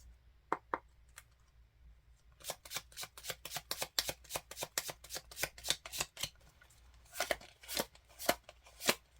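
Tarot cards are shuffled and drawn by hand. A few scattered flicks give way to a rapid run of crisp, close card snaps, then more uneven flips and taps.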